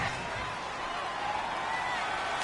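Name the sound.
stadium crowd noise at American football game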